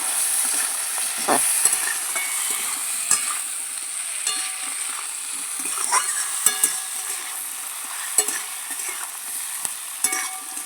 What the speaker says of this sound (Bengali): তেলের মধ্যে আদাটা ভালো করে কষিয়ে নিয়েছি